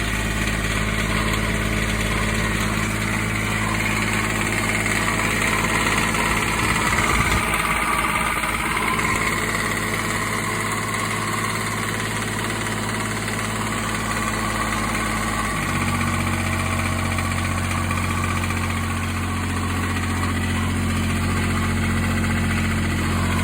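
A Kubota G1900 tractor's engine turns over and settles into a steady, close diesel idle with constant vibration and drone, no talking.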